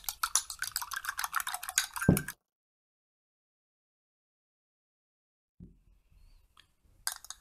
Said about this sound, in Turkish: Köpük kıvamına gelene kadar, böyle kremsi bir kıvama gelene kadar yumurtamızı çırpıyoruz